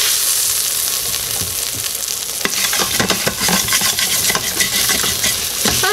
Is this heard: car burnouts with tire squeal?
no